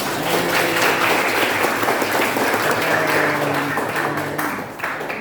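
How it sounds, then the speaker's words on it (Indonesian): School debate audience giving a steady round of applause, a dense wash of clapping that holds evenly before easing off at the end. "Tepuk tangannya dong."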